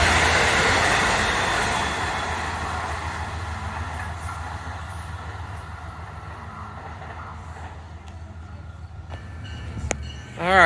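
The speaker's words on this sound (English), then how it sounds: "here we have the train of Grand Central, and it's a diesel" A Metro-North diesel train out of Grand Central rolls past Dobbs Ferry Station beside the river. Its loud, steady rumble and wheel noise gradually ease off, with a brief sharp sound at the end.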